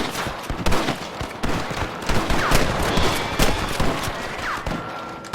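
Chaotic Red Dead Redemption shootout with a rustler guard, many overlapping gunshots and ricochets forming a dense, continuous fusillade at close to mid range.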